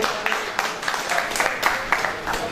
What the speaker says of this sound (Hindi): तशरीफ के नाम भरपूर तालियां